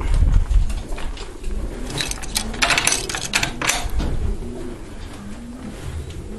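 Pigeons coo in a breeding aviary, several low rolling calls overlapping near the listener, with rustling, flapping and tapping clatter around them.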